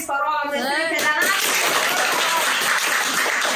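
Guests at a child's tenth birthday party break into sustained applause and clapping, starting right after a brief spoken line and filling the rest of the moment with dense, steady claps.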